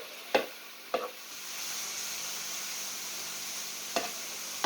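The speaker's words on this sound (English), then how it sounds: "dump that in there, take our old spatula, and start breaking it up" Food sizzling in a single pot of stir fry as a spatula breaks it up, a steady frying hiss with a few sharp scraping knocks near the start and end.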